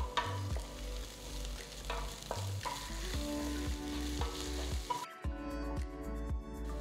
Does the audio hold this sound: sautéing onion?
yes